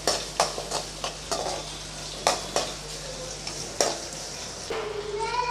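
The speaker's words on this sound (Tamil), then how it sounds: "வெங்காயம் கொஞ்சம் செவக்க வதக்கி விட்டுக்கலாம்" Onions sautéing in a pan for a brinjal kara kuzhambu, with a steady sizzle under repeated scraping stirs of a spatula against the pan, close and fairly quiet, no talking.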